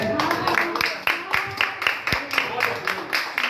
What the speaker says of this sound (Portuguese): A igreja saúda o Senhor com a salva de palmas